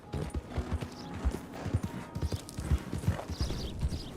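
Horse hooves clip-clop in a steady, uneven gallop rhythm across a Red Dead Redemption 2 game world, moderately loud with faint background ambience and occasional mechanical noise.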